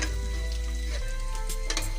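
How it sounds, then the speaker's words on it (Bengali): Eggplant and hilsa fish fry in hot oil with a steady, dense sizzle that stays close and constant throughout. "বেগুন ভাজা আর ইলিশ মাছ ভাজা হচ্ছে।"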